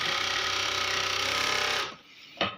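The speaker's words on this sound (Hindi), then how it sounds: "दोस्तों मशीन को हम चला के देख लेंगे कि ये सही चल रहा नहीं चल रहा।" An overlock sewing machine runs at high speed, stitching fabric with a loud, steady whirring drone that stops abruptly near the end, followed by a single short mechanical clack.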